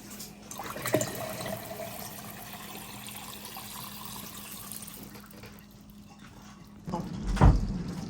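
A Kangen water ionizer, model 9.5, is switched on and water runs steadily from it in a kitchen, a continuous moderate flow with a louder splash near the end.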